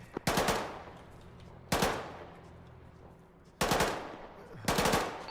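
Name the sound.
machine gun gunfire in the video game Arma 3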